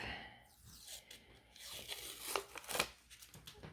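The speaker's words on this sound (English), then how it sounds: "So just peel out that adhesive." Adhesive backing being peeled off while making a personalized family wreath, a quiet close crinkly tearing sound with soft crackles that rises toward the end, alone without talk.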